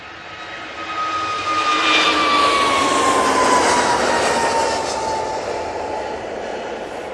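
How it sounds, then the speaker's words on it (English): An EasyJet Airbus A321neo jet takes off at Manchester Airport, its loud engine roar swelling and holding steady with a falling whine, then easing off slightly as it climbs away. "EasyJet A321neo. Busting out there. And they are off to Malta."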